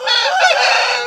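An Aseel gamefowl rooster crows loudly and close in one sustained, strained call lasting about a second, alone with no voices.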